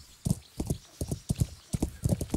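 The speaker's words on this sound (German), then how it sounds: "das Pferd springt da teilweise etwas durch die Gegend" Horse hooves clip-clop in the video game Kingdom Come: Deliverance, a quick, close, regular rhythm of paired thuds at a trot with no talking.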